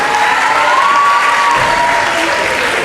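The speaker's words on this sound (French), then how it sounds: "Tout le monde applaudissement." A crowd at a school festival finale claps steadily with loud, dense applause, while a faint whistle-like tone rises and falls above the clapping.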